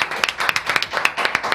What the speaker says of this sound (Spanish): Este aplauso es para él.